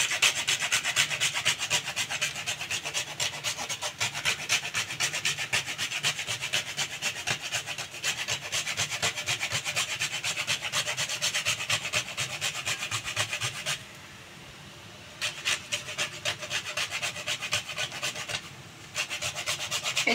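A whole nutmeg is rubbed against a grater in steady, rapid back-and-forth rasping strokes for Bhog Kanika, close and continuous with two brief pauses and no talk.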